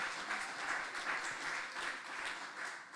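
A church congregation claps together during a sermon, a faint, steady patter of applause from a crowd with a slightly rhythmic pulse, continuing without pause.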